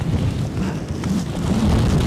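Strong, gusty wind at Edinburgh airport roars steadily and buffets the microphone with low rumbling throughout, with no voices heard.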